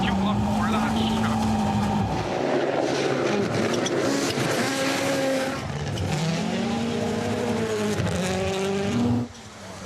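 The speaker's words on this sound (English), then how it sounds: "you saw that car ripping through the gears?" A rally car at Rally Latvia 2024 revs hard and climbs through the gears, its engine note rising and dropping with each shift, loud and close throughout, with a voice talking over part of it.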